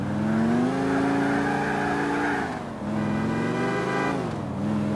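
A car in Grand Theft Auto IV drives with a loud, steady engine drone, rising in pitch as it accelerates, briefly easing off around a gear change, then climbing again, with no talking over it.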